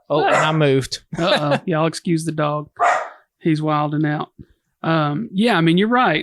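A dog barks excitedly in repeated bursts close by, overlapping with someone talking, who keeps speaking through the noise.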